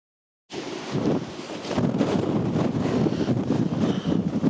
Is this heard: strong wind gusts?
yes